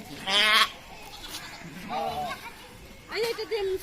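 A Jamunapari billy goat at a livestock market in Dinajpur gives several loud, wavering bleats at intervals, with people talking nearby in between.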